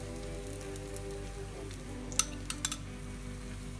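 Oil trickled into a hot kuzhi paniyaram pan with cooking batter, giving a soft, steady crackling sizzle with a few faint metallic clinks, quiet and close, with no talking.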